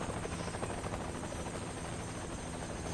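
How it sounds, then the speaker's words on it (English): Steady, loud helicopter rotor and engine roar in the video game Splinter Cell: Chaos Theory, a dense continuous drone with rhythmic blade chop filling the scene throughout, with no talking. "the helicopter's making a lot of noise for us."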